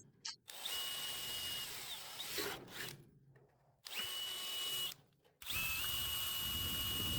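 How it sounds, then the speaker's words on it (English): Power drill boring out resistance spot welds in the sheet-metal body of a 1964 Impala SS, in several close, loud, whining bursts that start and stop with short pauses between them. "So we're drilling out the resistance wells."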